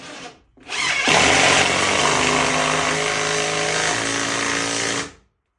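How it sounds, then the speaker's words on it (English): A power drill drives screws into picnic table wood, a loud sustained whine that rises as the motor spins up, holds steady for about four seconds with a slight drop in pitch, then cuts off. "Put it right in there and just load it in and drill it right in."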